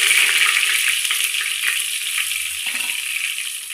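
Whole spices, cardamom, cloves, shahi jeera, cumin and cinnamon, frying in hot oil, a loud, dense, continuous sizzle with faint crackles and no voices.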